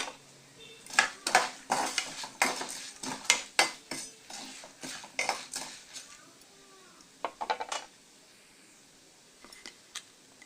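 Radish pieces stirred and fried in a pan over a medium flame, with repeated clinks and scrapes of a utensil against the pan in bursts, then a few sparse taps toward the end.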